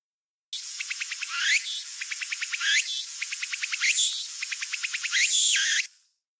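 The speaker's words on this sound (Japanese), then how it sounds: "私ちょっと鳴き声が好きなんですけども、つくつく帽子というセミもいます。" A tsukutsuku-boshi cicada calls loudly and close in a Japanese summer, repeating rapid rhythmic pulses that rise into sweeping phrases, cycling several times before stopping abruptly.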